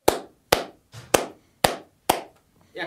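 A few sharp hand claps ring out in a studio, about half a second apart, each crisp and close, with a softer muffled knock between some of them.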